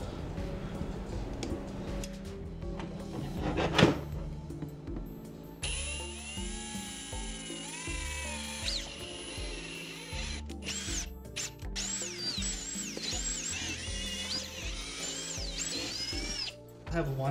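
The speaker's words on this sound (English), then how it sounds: "So let's get these holes drilled." A power drill with a half-inch bit boring holes in a Kulp K8-Pi controller build. A steady whine rises and falls in pitch across several bursts, with intermittent speech over a persistent background hum.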